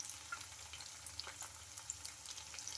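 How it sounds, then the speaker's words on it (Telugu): Pakodas made from leftover rice fry in a kadai of hot oil, giving a steady, soft, crackling sizzle with small pops, close but faint, and no talking. "ఆయిల్ ఫుల్ హీట్ మీద ఉండాలి. ఇంకా హీట్ మీద ఉన్నప్పుడు కొంచెం స్లిమ్లో పెట్టేసుకొని ఈ పకోడీలన్నీ వేసుకోవాలి."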